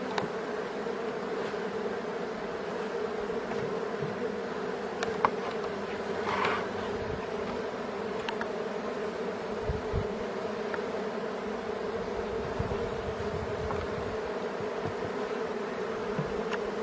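Steady, continuous buzzing of many honey bees swarming nearby at an apiary, a dense drone with occasional louder passes of single bees close by.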